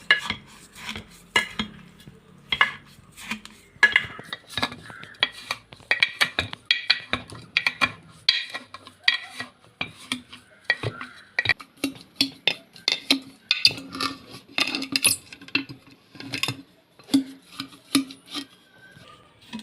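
A large ladle stirs sugar and banana together in a pot for homemade banana wine, producing close, repeated scraping clinks and soft mashing in a steady rhythm, with no talking.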